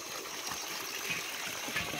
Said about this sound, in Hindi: ये देखिए, ये ऐसे गिरता रहता पानी यहाँ पर।